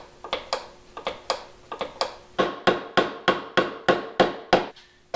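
Hammer blows on a chisel against a car part on a Chevrolet Cobalt, a steady series of about fourteen sharp, close metallic strikes, spaced evenly and ringing briefly, growing louder midway.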